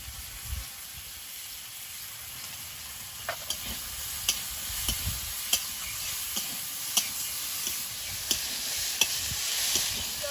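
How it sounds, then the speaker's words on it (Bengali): Vegetables fry in a pan with cumin powder and tomato, giving a low steady sizzle broken by repeated scraping stir strokes and clinks of the spatula against the pan, with no voices. "সবজিটা প্রায় ভাজা ভাজা হয়ে আসছে"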